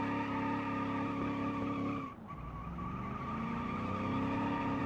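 A 1970s Soviet car drifting in the Automation game: a loud, sustained engine drone with squealing tires, a short dip midway, then the engine climbing again.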